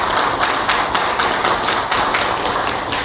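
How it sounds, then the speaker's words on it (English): An audience claps together at a health science gathering, dense steady applause of many hands held at an even level for about three seconds with no voices. "I think you people deserve a big round of applause for choosing"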